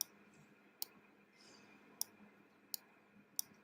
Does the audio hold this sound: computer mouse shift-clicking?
yes